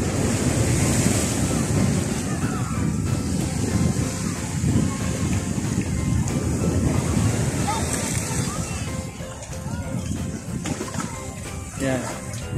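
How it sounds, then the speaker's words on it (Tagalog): Strong ocean surf rolls onto a long sandy beach in a steady, heavy roar, with sloshing water and wind buffeting the microphone throughout; it sits close and loud, with occasional voices in the background. "Tignan nyo naman yung lakas ng alon."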